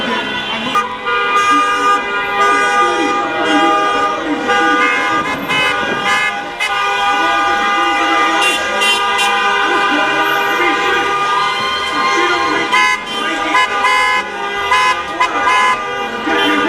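Car horns honk repeatedly and loudly as vehicles circle at a May 2020 Rhode Island demonstration to reopen the economy, overlapping toots and blasts with a siren-like wail, while a voice talks over them.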